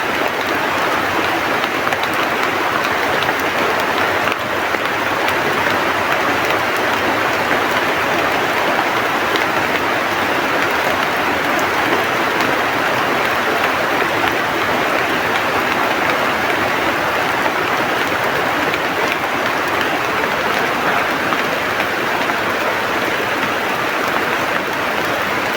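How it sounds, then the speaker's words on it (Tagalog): Heavy rain pours down in a steady, dense roar for the full length with no break, loud and unbroken and without voices. "Lakas ng ulan mga tol"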